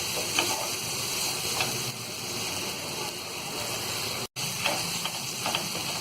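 Okra frying in a pan for a crispy bhindi fry gives a steady, soft sizzle and hiss, with light scraping as it is stirred continuously, interrupted once by a brief dropout.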